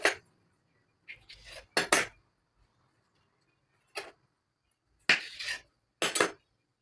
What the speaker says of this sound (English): So guys, after rolling it, you're going to take your knife and cut it.